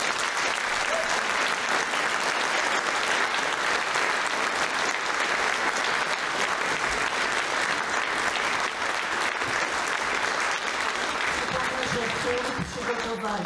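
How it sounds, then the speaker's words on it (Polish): Concert audience applauding a music school's brass band and choir, long, dense, loud clapping that continues unbroken, with faint voices and crowd murmur mixed in near the end. "Brawa dla nich."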